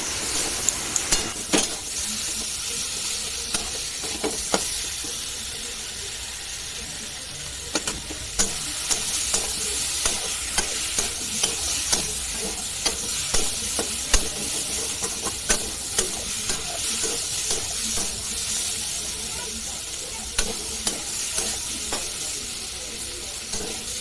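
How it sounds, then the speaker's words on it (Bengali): Potatoes and pointed gourd sizzle and fry in a pan while being stirred and sautéed for an Indian curry, a steady hiss broken by frequent scraping clicks of the spatula, fairly close and continuous. "এবারে ভেজে রাখা আলু আর পটল দিয়ে দেব, দিয়ে ভালো করে কষিয়ে নেব।"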